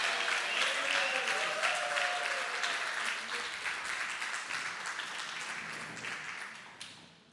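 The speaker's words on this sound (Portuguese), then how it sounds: "Amilcar, que eu peço uma salva de palmas." A seated audience claps steadily at a commemorative gathering, dense and sustained applause that gradually thins and fades toward the end.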